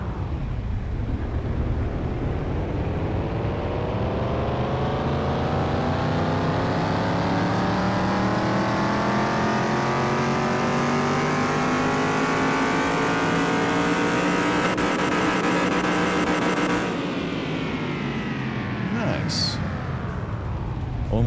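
A 1971 Buick Riviera lowrider in Car Mechanic Simulator 2021 accelerates on a test drive, its engine note climbing steadily through a long rev before cutting back sharply near the end, loud and close, with someone talking over it.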